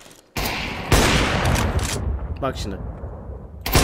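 Rapid gunfire bursts in CS:GO, loud and close, with a rattling volley after a short pause and another burst at the end, while someone speaks briefly over the shots.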